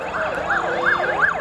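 An ambulance siren wails in repeating rising and falling sweeps, loud and fairly close, passing along a street near a protest rally at Taylor Square in Sydney, with no talking over it.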